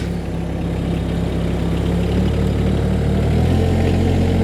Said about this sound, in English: restart the engine